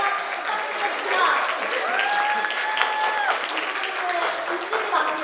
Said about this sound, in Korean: 이종훈 후보에게 뜨거운 박수 다시 한번 부탁드리겠습니다